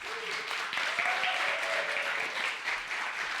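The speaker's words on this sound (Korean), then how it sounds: "우리 일어날 때 박수로 한번 맞이하겠습니다." Congregation applauding during a Sunday church service as a returning deaconess rises, a steady wash of dense clapping filling the room, with faint voices underneath.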